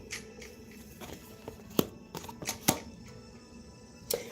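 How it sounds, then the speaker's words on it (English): Tarot cards being shuffled by hand, a quick series of soft riffles and sharp flicks, close and fairly quiet, with no talk. "let's get these cards out"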